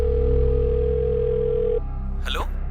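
A telephone tone repeating with no one picking up, a steady electronic tone that cuts off partway, followed by a short burst of another sound.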